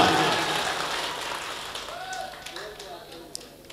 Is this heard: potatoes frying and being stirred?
no